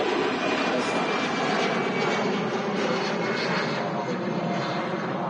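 An EasyJet Airbus A320 jet airliner at Manchester Airport produces a loud, steady engine roar that holds evenly throughout, with no speech.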